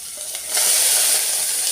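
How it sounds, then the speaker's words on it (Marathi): Chili thecha, turmeric and chopped coriander sauté in a hot pan, a steady close sizzle that swells louder about halfway through and then holds as a bright, continuous hiss. "याला चांगलं परतून घेते."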